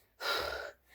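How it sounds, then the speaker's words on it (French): A breathless woman lets out one sharp, close gasp, a single breathy intake lasting about half a second, heard alone with no talk. "Je suis essoufflée."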